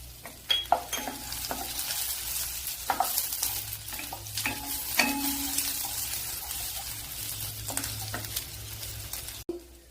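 Crushed garlic and a small piece of ginger fry in melting butter, a gentle steady sizzle broken by stirring scrapes and light utensil clinks against the pan, close and fairly quiet.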